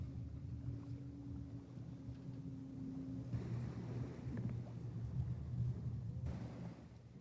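A performance cruising yacht sails under plain sail in light wind at about 7 to 8 knots, giving a steady low rumble of water and air along the hull, soft and continuous without talk.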